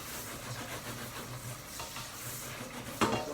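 Onions fry in a pan for a roasted cauliflower and aubergine curry, giving a soft continuous sizzle with stirring scrapes and a sharp clink of utensil on pan near the end.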